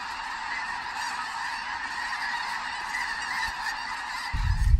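Geese honk continuously in a dense, overlapping chorus during a duck and goose hunt in Alberta, a steady flock sound with a louder low-frequency rumble at the very end.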